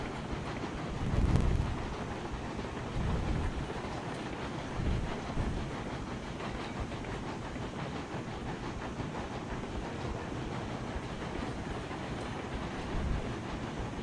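Steam locomotive rolling on rails in Railroads Online, a steady low rumbling run with continuous track noise and faint clatter, slowing on a grade, alone without talk.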